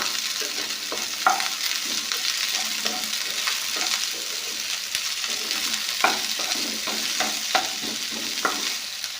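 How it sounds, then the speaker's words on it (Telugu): Onions frying in hot tempering oil in a pan for okra fry, a steady close sizzle with occasional scraping stirs and small spatula knocks throughout, no talking. "ఇందులో ఆనియన్స్ ఇప్పుడు వేసుకోండి"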